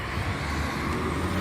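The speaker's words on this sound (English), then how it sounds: "Sorry about that truck noise." A truck rolls by on a nearby road as steady, broad traffic rumble, dense low-end engine and tyre noise holding at a constant level throughout.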